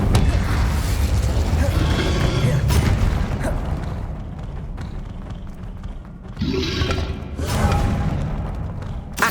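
Incendio fire spells cast during a Hogwarts Legacy battle, a dense run of whooshing bursts, thuds and crashes, loud and continuous with several sharp impacts and a surge near the end.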